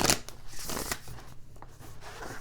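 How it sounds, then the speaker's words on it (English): A deck of tarot cards is shuffled close up, giving a series of quick riffling, flapping bursts with short pauses between them. "That was an interesting shuffle."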